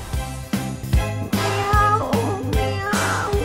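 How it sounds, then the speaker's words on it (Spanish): Musical notes with repeated meow-like cries over a steady rhythmic beat, loud and close. "¡Miau! ¡Miau!"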